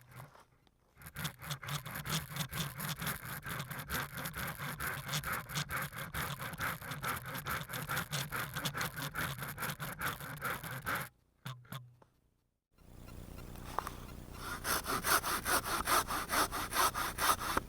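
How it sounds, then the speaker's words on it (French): A Fiskars SW73/SW75 pull saw cuts through wood in a long run of rapid, even rasping strokes, close and continuous, with a short pause before the sawing resumes. "Tout de suite on va faire un petit test de coupe pour voir ce que ça donne."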